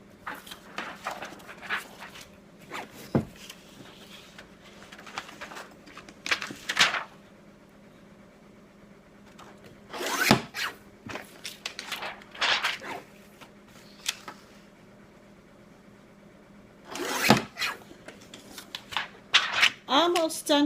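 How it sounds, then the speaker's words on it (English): A paper cutter slices 2-inch paper strips in several separate, close rasping strokes spaced a few seconds apart, with quieter handling and sliding of paper between cuts. "I'm going to use my paper cutter and cut 2-inch strips"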